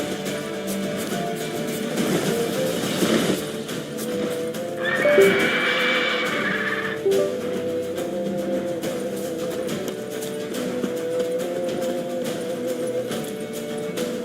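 Roach, the horse in The Witcher 3, gallops with steady hoofbeats and a whinny partway through, set against a continuous game soundscape.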